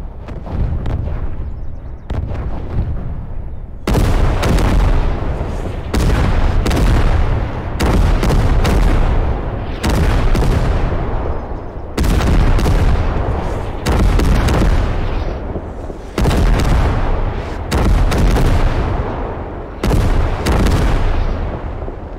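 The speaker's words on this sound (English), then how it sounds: "So I guess I used that mortar barrage." A mortar barrage in the game Gates of Hell: Ostfront lands as a series of loud, close, booming explosions, about ten heavy blasts in quick succession with rumbling decay between them.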